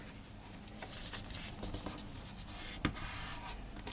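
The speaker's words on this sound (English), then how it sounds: "Fold that in on itself." Paper folded in on itself and creased, a quiet continuous rubbing and swishing close by with one brief crisp snap near the end, no voices.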